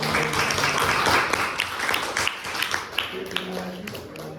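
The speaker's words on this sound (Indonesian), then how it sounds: "beri tepuk tangan untuk kelompok" A group claps and applauds nearby, the clapping dense at first and thinning out as voices start talking over it.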